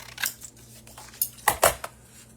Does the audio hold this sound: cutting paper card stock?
yes